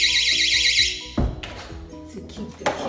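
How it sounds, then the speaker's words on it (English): A battery door alarm blares a loud warbling electronic tone for about a second, then cuts off, followed by soft knocks and a brief voice. "These alarms on the door"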